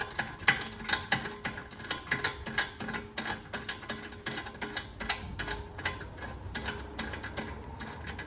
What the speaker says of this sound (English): you're gonna do a star pattern, putting the studs back in.